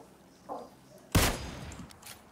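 A faint pop is followed by one loud, sharp burst of gunfire up close in PUBG Lite, its echo trailing off briefly, with no talking.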